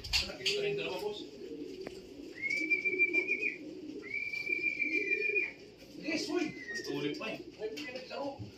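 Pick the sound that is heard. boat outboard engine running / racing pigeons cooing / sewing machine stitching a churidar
racing pigeons cooing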